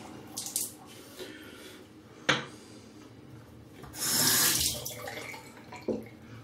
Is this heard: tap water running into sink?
yes